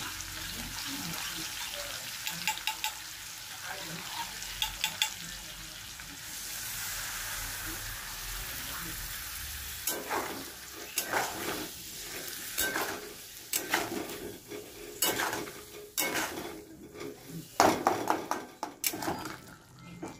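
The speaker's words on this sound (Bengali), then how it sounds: "এই যে আমি গাটি আলুটা মশলা দিয়ে কষাচ্ছি" Whole baby potatoes frying with spices in a pan, a soft continuous sizzle giving way to irregular scraping and stirring clatter, close and moderately quiet.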